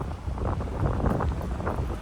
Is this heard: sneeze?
no